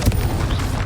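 Confringo explosive spell blasts in Hogwarts Legacy, a dense booming burst at the start followed by continuous rumbling combat noise, loud and close with no talk.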